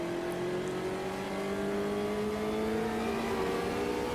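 Indy cars in the Automobilista 2 racing game at the Red Bull Ring drone past with a steady, loud engine whine that climbs slowly in pitch, one car's tone layered over another.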